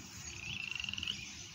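A frog croaks from a backyard lake, a quick run of about a dozen pulsing rattles lasting under a second, fairly close over a steady outdoor background, with no talking.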